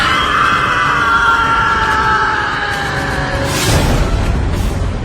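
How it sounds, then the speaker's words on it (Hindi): In a horror story, a loud, drawn-out scream sound effect wails and slowly falls in pitch, then ends with a sudden burst of noise over a constant dense background. "सामने वही आदमी खड़ा था और आरव के मुंह पर इतनी जोर से चीखा कि बस तुरंत ही वापस दरवाजे को बंद करना पड़ा"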